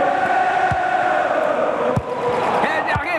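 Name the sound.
stadium crowd in football video game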